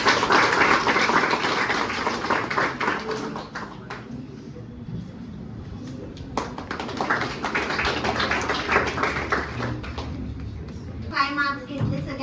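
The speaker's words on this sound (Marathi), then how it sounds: "सगळ्यांनी टाळ्या वाजवायच्या." A class bursts into sustained applause at a coaching institute gathering, many hands clapping densely for several seconds, easing off midway and then swelling again toward the end.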